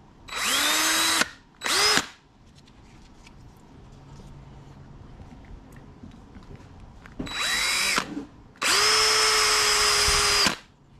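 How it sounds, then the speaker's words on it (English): A power drill bores out a hole in a factory battery tray bracket on an Axial SCX10 III, whining in two short bursts, then a pause, then two more, the last one sustained, close and loud. "So what he's doing is he's drilling this hole out right here."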